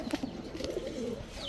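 A male pigeon kept for sale by a pigeon dealer gives soft, low cooing notes, faint and brief, against quiet background noise.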